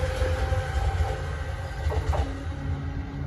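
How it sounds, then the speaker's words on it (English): An Alstom ALP-45A dual-power locomotive rumbles past at Princeton Junction, a steady loud rolling roar with low engine drone and rail noise, a brief rising whine near the end. "It is a newer dual power locomotive, ALP 45A,"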